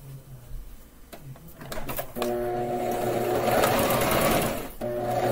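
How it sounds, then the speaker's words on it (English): A sewing machine runs through a surgical mask in short stop-start bursts, then settles into one long, steady, whirring run of stitching, close and loud with no voices. "we're going to sew all the way to the other side this time"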